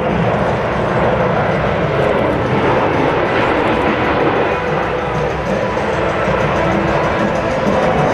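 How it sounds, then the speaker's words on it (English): A Boeing C-17 Globemaster III military transport jet roars past at an air show demonstration, a loud, steady broadband engine rumble filling the whole stretch without a break. "As he passes show center, please notice how quiet this aircraft is"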